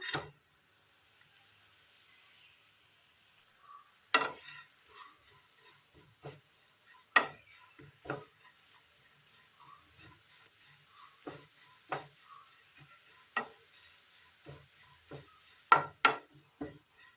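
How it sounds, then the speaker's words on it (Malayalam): Grated coconut dry-fries in a pan on a stove, a quiet scene of intermittent scraping and stirring taps with faint crackle between them, the spatula strokes standing out as irregular sharp knocks. "അടുപ്പത്തൊരു പാൻ വെച്ച് കൊടുത്ത് ഇതിലേക്ക് തേങ്ങ തിരുമിയത് ഇട്ട് കൊടുക്കാം"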